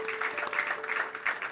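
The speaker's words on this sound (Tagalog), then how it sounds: "Pwede ba palakpak mo talaga si Lord? Yung palakpak ng nagpapasalamat talaga." Church congregation applauding in thanks during a worship service, a dense, fairly quiet patter of many hands with a faint steady tone running underneath, sustained through the short stretch.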